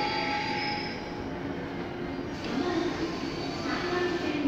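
The Odoriko No. 10 limited express train to Tokyo rumbles and rolls along the rails at Kawasaki Station with a steady mechanical roar, faint wheel squeal rising over it as it moves through.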